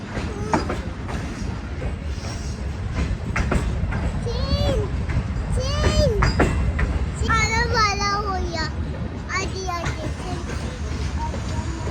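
An Awam Express passenger coach rolls along with a steady low rumble and rattle, while several people, including children, talk and call out over it throughout.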